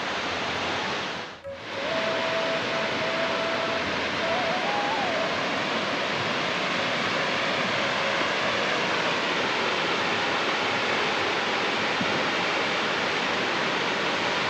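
Ratmohona waterfall, also called Golden Fall, roars in a steady broadband rush of falling water, loud and continuous throughout, with a short dip near the start and a faint tonal whine drifting over it early on.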